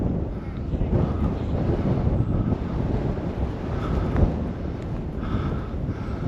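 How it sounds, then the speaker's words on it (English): Steady wind on a mountain top in the Shining Rock Wilderness roars and buffets across an open microphone, a continuous rumbling gust with no break. "You can feel the wind breezing, blowing up here."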